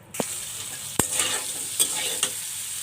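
Potatoes with turmeric, salt and chili powder fry in oil, a steady hiss broken by three or four sharp scraping strokes of a spatula stirring them, close and moderately loud.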